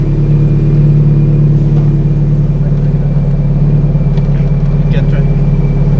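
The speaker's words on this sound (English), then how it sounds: "Also makes some nice pops. But that is redline. It's got a very heavily restricted rev limiter." Alpine A110 R Ultime engine held against a heavily restricted rev limiter at redline, a loud steady drone with a few faint pops, while a person talks over it.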